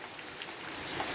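Heavy rain pours steadily outdoors in a broad, continuous hiss that stays loud and even throughout, with no voices.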